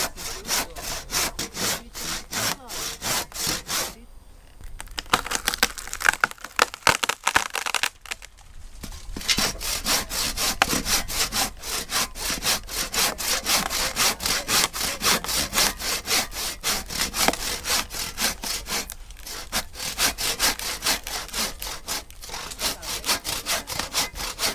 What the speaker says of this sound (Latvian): Tālūk, dārgie draugi, zāģē.